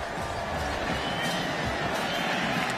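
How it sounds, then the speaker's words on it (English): Virginia Tech fans at the 2007 ACC Championship football game against Boston College applaud after a touchdown, a faint, distant wash of crowd clapping and cheering beneath a commentator's voice. "That's why you hear the applause from the Hokie fans in the background"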